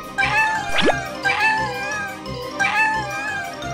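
Kittens meow in three separate, clear cries spaced a second or so apart, close and fairly loud, with a short dripping sound between the first two.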